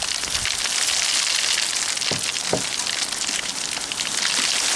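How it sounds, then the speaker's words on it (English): Hail pelting outdoor surfaces during a magnet-fishing outing, a loud, dense, continuous patter with a few sharper individual impacts, no talk. "it's just started to hailstorm"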